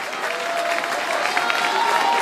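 An audience applauds volunteer actors, singers and musicians after a live nativity scene, a continuous crowd of clapping hands heard up close, with some voices mixed in.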